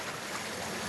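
A waterfall near the shore at Toco gives off a steady, even rush of falling water, loud and continuous with no break or voices.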